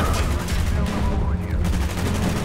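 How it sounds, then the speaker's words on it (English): Sustained rapid burst of minigun (death machine) fire in the Call of Duty Black Ops campaign, loud and continuous with dense rattling shots throughout. "Get a minigun."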